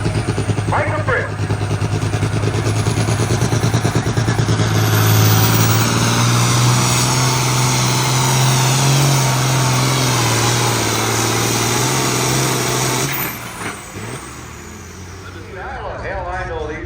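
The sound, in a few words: Massey 1155 tractor engine at a tractor pull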